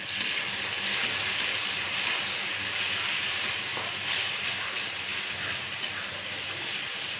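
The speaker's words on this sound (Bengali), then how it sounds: "তো রসুনটা আমি এভাবে করে নাড়াচাড়া করে নিলাম।" Garlic paste sizzling steadily in hot oil with browned onion and chilli, a continuous close frying hiss with faint stirring scrapes throughout.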